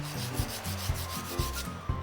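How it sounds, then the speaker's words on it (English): A sanding sponge rubs back and forth over a small curved resin helmet piece, a steady run of close, dry, scratchy strokes with no talking. "This one I use a sanding sponge, because there's some curvature there, so it's easier to use sanding sponge."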